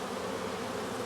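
A colony of honeybees drones steadily and close by at a large hive, in strange, stormy weather, a dense continuous buzz with no voices.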